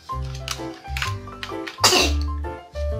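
A young girl playing with a Littlest Pet Shop house set sneezes sharply once amid quieter snuffly breaths and soft throat sounds, close and alone without speech.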